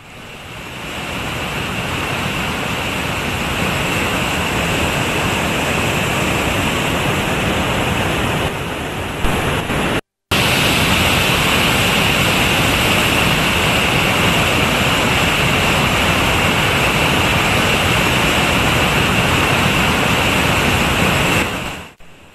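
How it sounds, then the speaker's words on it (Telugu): Water released through Pattiseema lift irrigation pump houses gushes in a steady, loud, broadband roar, close and unbroken apart from one brief cut near the middle, with no voices. "4, 5, 6 పంప్ హౌస్ల ద్వారా 1000 క్యూసెక్ల నీటిని విడిచిపెట్టారు"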